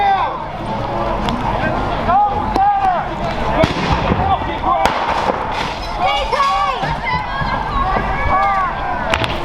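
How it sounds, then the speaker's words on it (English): Fireworks and firecrackers set off in a courtyard during a protest march for Elijah McClain in Aurora, Colorado, with police nearby: sharp pops and bangs scattered through a loud, dense crowd of shouting and talking voices. "Fireworks are still being shot inside the courtyard where the riot cops are"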